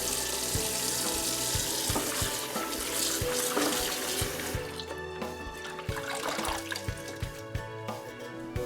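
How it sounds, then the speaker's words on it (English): Raw squid rinsed under a running kitchen tap, a steady close hiss of water splashing into a sink throughout, with faint handling clatter and no talking. "Wash the squids and drain it."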